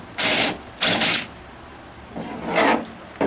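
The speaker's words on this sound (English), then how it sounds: "This is a bevel drill bit. It has a bevel for the screw head." A bevel drill bit cutting a countersink hole for a screw head in wood for a glider bench, heard as three short rasping bursts separated by brief pauses, close and fairly loud.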